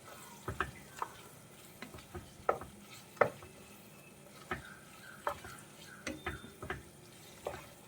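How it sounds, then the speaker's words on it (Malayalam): Soya chunks being stirred into chilli sauce in a pan, with scattered scraping clicks and light sizzling at a quiet, close level, no talk. "നന്നായിട്ടൊന്ന് മിക്സ് ചെയ്ത് കൊടുക്കാം കേട്ടോ"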